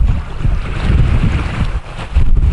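Wind rushing over a sailboat with water sloshing against the hull, gusty and close, no engine and no voices.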